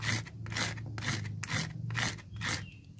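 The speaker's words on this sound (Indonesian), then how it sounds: "pertama yang agak kasar aja amplasnya" Coarse sandpaper rasps back and forth on a scooter's automatic transmission roller in a steady rhythm, about six gritty strokes, close and clear with no talking.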